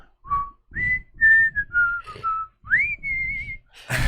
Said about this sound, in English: What a great application of your whistling